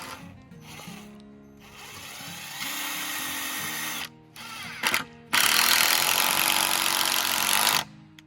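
A power drill whirs in loud bursts as it drives a screw into wood without a pilot hole, splitting the wood, stopping and restarting with ratcheting, straining motor pitch, then a long final run.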